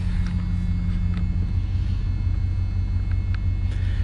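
A 1993 GMC 1500 pickup that sat for ten years, its engine rumbling low and steady up close as the truck tries to pull itself out, with faint scattered clicks above the drone.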